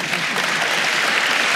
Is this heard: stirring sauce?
no